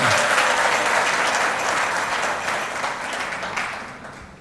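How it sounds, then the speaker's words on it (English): Audience applause for the Black Queens women's football team and technical staff at the Women's Africa Cup of Nations draw ceremony, a dense, steady roar of many hands, loud at first and slowly fading over about four seconds. "A round of applause for them."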